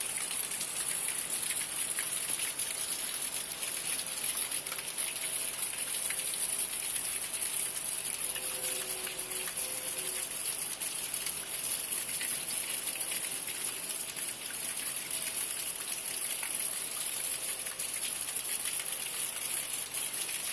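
Steady, even rain falls outside for the whole stretch, a constant hiss of drops on surfaces with no gaps and no talk over it.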